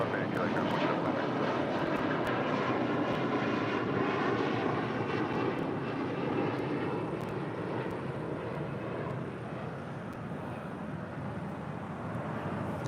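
A SkyWest Embraer E175LR regional jet at LAX gives a steady, loud broadband engine roar that holds for the whole stretch and eases slightly toward the end.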